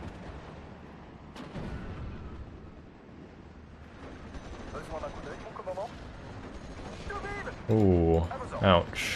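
Steel Division: Normandy 44 anti-aircraft guns pound away in sharp, scattered bursts under a steady battlefield rumble, while a man mutters short exclamations over the firing.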